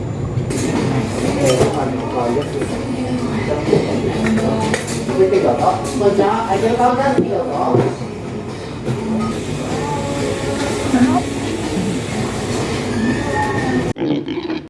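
A JR train pulling into Himeji Station, a steady rolling rumble with scattered metallic clinks, while people talk nearby throughout.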